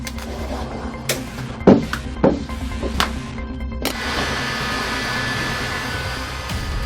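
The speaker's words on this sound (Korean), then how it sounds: "각이 진 부분은 시공용 드라이기로 뜨거운 바람을 쐬어주는데요." A heat gun blows a steady stream of hot air onto interior film at corners, a continuous whooshing hum that runs on after a few sharp taps and knocks near the start.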